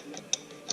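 Two sharp, close ratchet clicks a fraction of a second apart as bolts are snugged on a 9-inch differential third member, quiet between the clicks.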